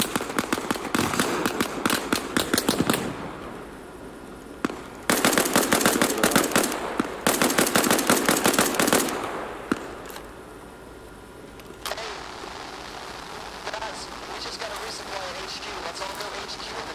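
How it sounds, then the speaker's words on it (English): Gunfire in a military video game assault on a Russian base: dense bursts of automatic fire in two long stretches with brief pauses, then quieter scattered shots, under occasional radio-style voices. "Gunshots near"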